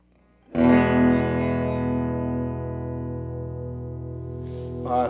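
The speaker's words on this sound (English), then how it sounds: "Volume to 3, master to 3. No EQ, no reverb on the bridge pickup on the telly." A Telecaster's bridge pickup through a 2019 Fender Blues Jr FSR Western edition amp at volume 3 and master 3, no EQ or reverb: one sustained chord rings out loud and decays slowly, with a brief string scrape at the end.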